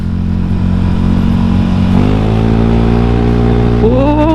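A Honda Scoopy scooter engine hums loudly and steadily while riding, then rises in pitch twice as the throttle opens, each rev climbing smoothly.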